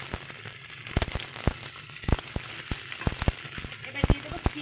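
Potatoes and beans sizzle in a hot pan, a steady crackling hiss broken by sharp pops and spits at irregular intervals, close and fairly loud.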